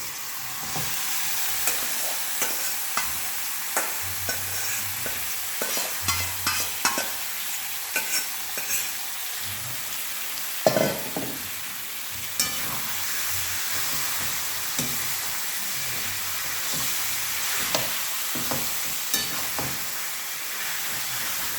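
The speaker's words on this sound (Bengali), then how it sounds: "এবারে আমি চিকেনটা দিয়ে দেবো" Chicken added to well-fried spice masala for chicken curry, sizzling and frying steadily while a spoon scrapes and stirs the pan in irregular clatters throughout.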